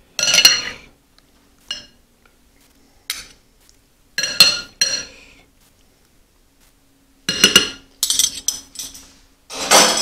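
Spoons clink and scrape against a dish of sweet and sour meatballs in sauce in irregular bursts, some brief and some clustered, with quiet gaps between them.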